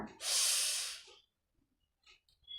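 A single long, deep breath taken during a guided chakra meditation, a loud airy rush that swells and fades over about a second, followed by near silence and a few faint soft sounds.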